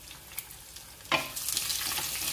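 Chopped small shallots hit hot oil in a pan with fenugreek and curry leaves for vatha kuzhambu, starting with a faint tap and then bursting into a loud, continuous sizzle that holds steady to the end.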